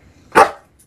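A single sharp dog bark, loud and close, rising out of near silence with a faint low rumble before it and a brief tail of quieter noise after.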